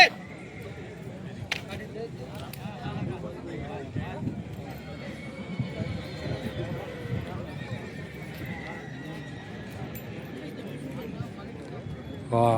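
Kathiyawadi horses at a police horse selection ground neigh and whinny repeatedly while hooves clip-clop nearby, with a faint murmur of people in the background.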